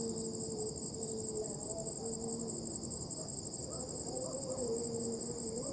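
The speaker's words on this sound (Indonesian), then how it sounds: "Banyak suara serangga." Insects chirp steadily at night in a dark cemetery, a dense continuous high-pitched drone of crickets with a few faint lower calls drifting through, no talking.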